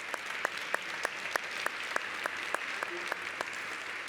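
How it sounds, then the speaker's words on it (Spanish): Audience applause at the closing session of a conference on commercial and investment arbitration, steady clapping from a crowd with sharp individual claps standing out, sustained throughout at moderate level. "os pido que le deis un fuerte aplauso por estar con nosotros"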